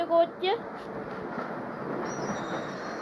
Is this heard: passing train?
yes